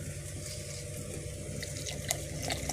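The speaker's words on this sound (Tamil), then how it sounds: "இப்போ வந்து நம்ம தண்ணி ஊற்றிக்கலாம்" Water pours steadily from a tap or vessel into rasam made with tomato, curry leaves, turmeric, asafoetida and salt, a continuous close liquid rush with faint splashes.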